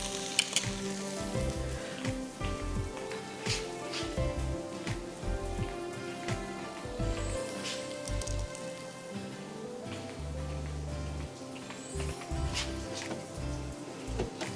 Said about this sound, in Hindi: प्याज हमें थोड़ा हल्का ब्राउन करना है।